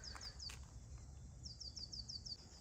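Small birds sing in a spring garden at a country cottage, with repeated bright chirping phrases in short series at moderate distance over a low outdoor background hum, no talking.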